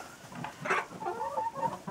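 A domestic hen sitting on a nest in a warm, clean henhouse gives soft, low clucks and murmuring calls. The sounds are close but quiet, with one slightly louder squawk near the middle, and no speech.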